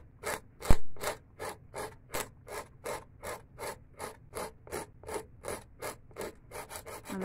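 A nail file rasps against acrylic nails in a quick run of about twenty short, rhythmic back-and-forth strokes, close and clear with no talking.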